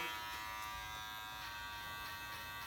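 Electric hair clippers buzz steadily while cutting a guideline for a bald fade, a continuous close-up hum of the blade running against hair with no speech.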